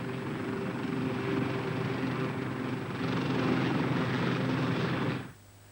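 An army helicopter's rotor and engine roar steadily overhead, loud and close, then cut off abruptly near the end.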